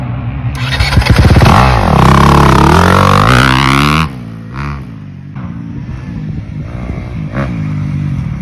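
A 2022 Honda CRF250RX dirt bike started from cold while in gear: a loud close engine catch with rising revs for several seconds, then a drop to a quieter idle with mechanical clatter.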